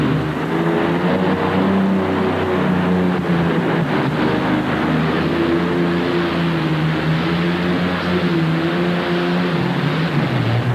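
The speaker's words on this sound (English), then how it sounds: "Hang on to the V12 Allison aircraft engine." A pulling tractor powered by a V12 Allison aircraft engine roars at full power throughout, a loud sustained droning exhaust with a deep, steady harmonic growl and slight pitch wavering.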